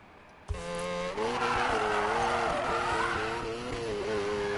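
Mazda RX-7 in a Need for Speed drifting run: after a brief quiet start, a revving engine and loud, sustained, pitch-bending tire screech kick in abruptly and continue steadily, close up, without talk.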